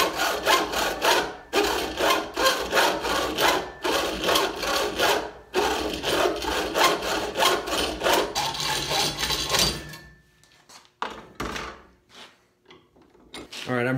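Hand saw rasping steadily through a wooden workpiece in a shop where a shoulder plane is being built with hand tools only, with rhythmic close strokes for about ten seconds before fading to a few lighter scrapes.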